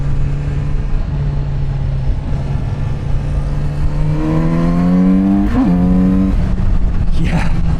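A Kawasaki Z900RS motorcycle engine heard while riding, a loud steady drone with rising harmonic revs and a brief throttle blip near the end, continuous and close throughout.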